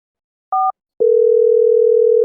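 Telephone tones while placing a call: a short two-tone beep, then after a brief pause a loud steady dial tone that holds alone to the end.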